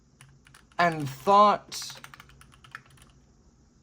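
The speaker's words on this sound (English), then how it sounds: "I'm like typing into Google" Keys clatter on a computer keyboard in soft, quick ticks around a brief spoken phrase.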